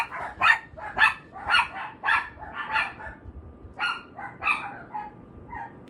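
A dog barks repeatedly indoors, with a series of sharp, moderately loud barks in an irregular rhythm and short gaps between them, heard alone without talk.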